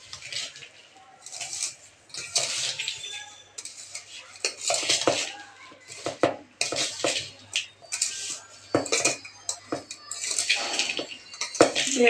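A spoon stirs jaggery into mango pickle in a pot, making repeated bursts of scraping and clinking with short pauses between strokes, close and fairly loud.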